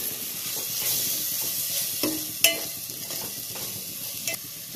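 Dry fish curry is stirred in a pan, a steady close sizzle under repeated scraping strokes with a few sharper utensil knocks, and nobody speaks.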